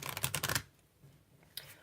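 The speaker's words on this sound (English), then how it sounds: "I then shuffle the cards" Lenormand cards being shuffled by hand, a quick flurry of soft riffling clicks for about half a second, then a short second burst, faint and close in a quiet room.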